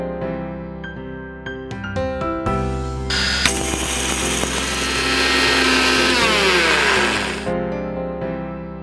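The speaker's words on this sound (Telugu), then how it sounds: "ఇప్పుడు వీటిని మిక్సీలో వేసి పౌడర్ చేసుకోవాలండి" Mixer grinder powdering roasted fenugreek seeds, a loud steady whirring grind that starts after a few short clatters, holds for about four seconds, then cuts off.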